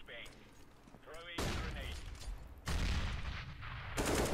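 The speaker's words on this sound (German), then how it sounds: "Da, er schießt, bevor der gepiekt hat." CS:GO gunfire on the Cache map during an Overwatch demo review plays as sustained bursts of rifle shots, loud and crowded, beginning after a quieter stretch, with a voice talking over part of it.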